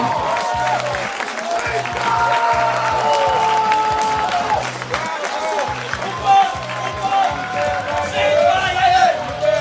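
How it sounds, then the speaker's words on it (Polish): Applause from a festival audience after an on-stage act at Śliwka Fest, steady clapping with some whoops running throughout, while music or other stage sound and voices carry on over it. "jakie brawa dla nich!"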